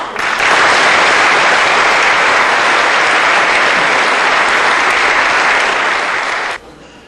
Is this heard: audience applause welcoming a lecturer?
yes